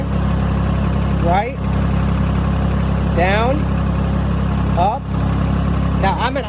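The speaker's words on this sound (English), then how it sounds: "I'm in idle right now." A Vermeer CTX100 compact track loader sits at a steady, droning idle close by, while a person talks over it in short bursts.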